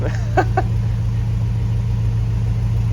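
A car engine idles steadily beside its exhaust pipe, giving a loud, even low hum that holds for the whole stretch, with a couple of faint clicks near the start.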